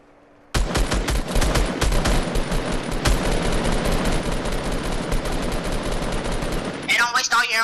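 Sudden sustained gunfire in Fortnite after a near-silent start, a fast, dense string of loud, close shots lasting several seconds, then a voice at the very end.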